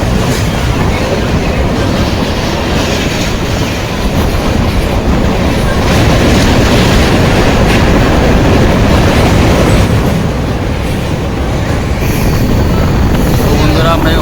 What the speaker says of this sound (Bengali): স্টেশনের আগের স্টেশন খাটুয়া ঢুকছে আমাদের ট্রেন।